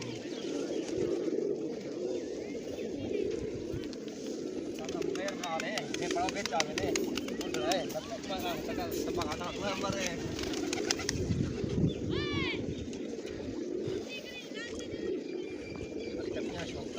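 Pigeons coo softly and repeatedly amid a busy background, with occasional chirps and faint voices mixed in.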